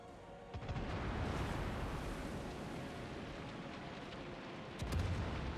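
Ship guns in the naval battle game World of Warships fire in a dense, low rumbling barrage of booms. Sharper blasts stand out near the start and again near the end, while the whole stays fairly quiet and distant.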